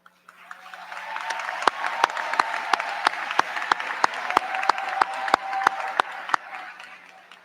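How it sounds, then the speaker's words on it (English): Crowd at a high school commencement applauding cum laude graduates, a broad sustained roar of clapping with sharp rhythmic claps punctuating it roughly every third of a second, rising quickly and holding steady before fading. "All cum laude students, please stand now so that we may applaud your achievements"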